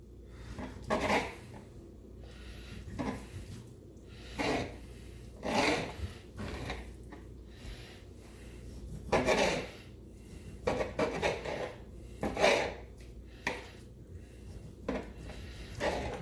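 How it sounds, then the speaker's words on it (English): A serrated knife saws through partly frozen chicken breasts, cutting them into strips in a series of separate rasping, scraping strokes with brief pauses between, close and fairly soft. "I'm using a serrated knife because these are just a smidge bit frozen still"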